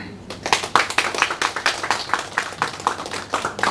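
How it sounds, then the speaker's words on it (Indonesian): A seminar audience claps together in a sustained round of applause, a steady patter of many hands close by with no voices over it. "Tepuk tangan kepada Mbak Tina."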